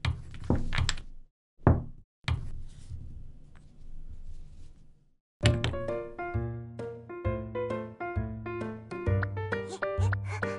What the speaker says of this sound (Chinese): 咚咚咚，大门打开了